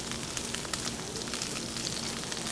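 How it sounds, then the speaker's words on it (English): Garlic and rosemary with radicchio sauteing in a pan give off a steady, dense sizzle with a faint crackle, close by and even throughout, with no talking. "We're just going to go ahead and let it saute just a few minutes"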